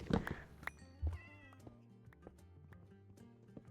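Cats in a Minecraft game give a few short, distinct meows, sparse and fairly faint against quiet background music.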